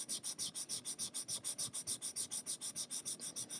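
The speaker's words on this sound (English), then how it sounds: "So I'm just going to go over it with some very fine wet and dry." Very fine wet and dry paper rubbed back and forth over a plastic model strip for a 1/400 Queen Mary 2 kit, a close, steady rasping stroke repeated about six times a second, with no talking.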